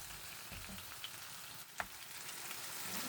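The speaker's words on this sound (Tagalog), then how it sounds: "Gisa muna natin." Food sautéing in a pan with garlic and onion, a steady, faint sizzle throughout with a few small clinks of stirring, no voices.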